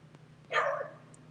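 A dog gives a single short bark at a moderate distance, a brief sharp burst against a quiet background with a low steady hum.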